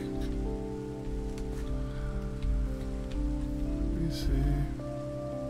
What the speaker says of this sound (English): I'm not gonna clear the rain right now.